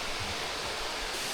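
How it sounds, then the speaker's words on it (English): Waterfall in the remote Kimberley, a steady broadband rush of falling water, loud and continuous with no voices. "these waterfalls are nothing short of spectacular"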